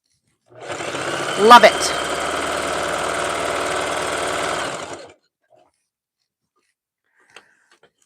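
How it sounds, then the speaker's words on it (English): A Singer Heavy Duty sewing machine stitches fabric tubes for a jelly roll rug in a steady, fast mechanical whir of about four and a half seconds, then stops, with a brief spoken remark near the start. "This goes super fast when you have the correct machine for sewing these tubes"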